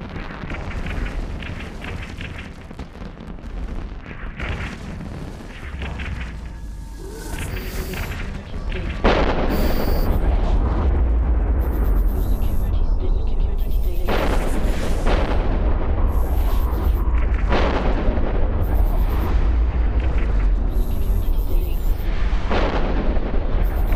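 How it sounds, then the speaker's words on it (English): In the game EVE Online, smart bombs go off as a run of heavy, booming blasts. They come in loud, repeated bursts after a quieter lead-in and then hold a dense, continuous roar. "That's the smart bomb."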